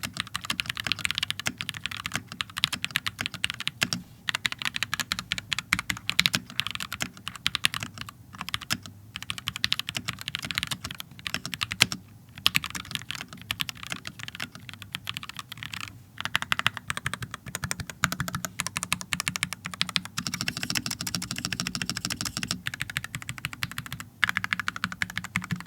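Continuous rapid clacking of a custom-built mechanical keyboard, bursts of keystrokes with brief pauses, close and crisp, no talking.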